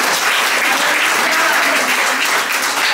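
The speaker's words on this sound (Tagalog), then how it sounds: "Palakpak ng malakas sa harapan ng ating Panginoon" A church congregation applauds loudly, a thick, continuous roar of clapping from a large crowd that holds at full strength without a break.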